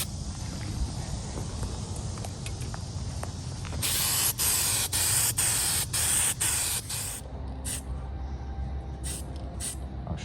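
Aerosol can spraying hammered black paint onto a rusted 150-year-old Swift Mill coffee grinder by Lane Brothers, in a run of short close hissing bursts separated by brief pauses.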